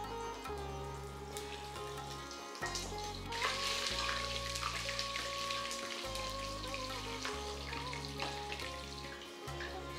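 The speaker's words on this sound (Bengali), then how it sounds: "যতক্ষণ পেঁয়াজ ভাজা হচ্ছে" Six or seven whole onions fry in oil in a pressure cooker, giving a steady sizzle with stirring scrapes, while low background music hums underneath throughout.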